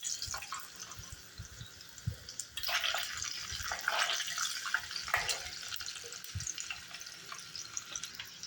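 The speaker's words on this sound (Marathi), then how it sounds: "तडका बसला की मग आपण ते ढोकळ्यावरती सगळं" A hot tempering of white sesame seeds poured over steamed rava dhokla gives a soft, fairly faint sizzle with crackling bursts that swell midway and then fade into scattered ticks and pops.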